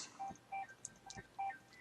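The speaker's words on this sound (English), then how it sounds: "That's always my phone ringing, just ignore it." A phone rings faintly nearby, giving a few short, evenly spaced electronic beeps in a quiet indoor setting.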